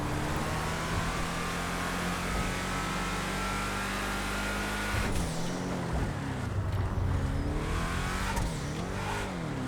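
Car driving in GTA Online, a loud steady engine drone that shifts midway into revving with rising and falling pitch as the car accelerates and slows, with no talk.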